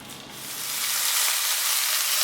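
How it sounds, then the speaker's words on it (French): Lamb shanks browning in a hot pan give a steady, hissing sizzle that swells in the first second and then holds loud and even, with no talking. "Vous allez faire revenir les souris sur toutes les faces."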